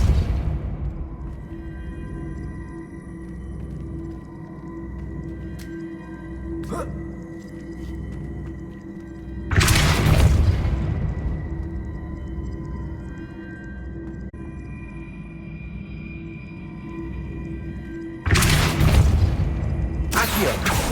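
Two heavy, booming spell blasts from the Depulso force spell in Hogwarts Legacy burst out well apart against a low rumbling game ambience, each one loud with a broad whooshing impact.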